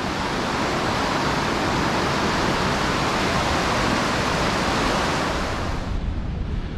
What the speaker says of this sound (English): Gives you a lovely view of the River Almond and a wee waterfall coming up or a rapids.